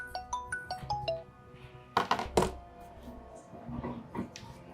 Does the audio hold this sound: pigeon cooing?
no